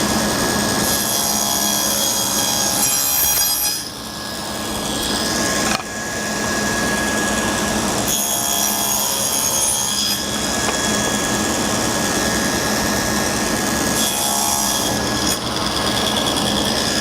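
A saw guided by a miter gauge cuts a rabbet into a wooden board, making a loud, steady mechanical roar with whining tones that holds for the whole stretch and briefly dips twice.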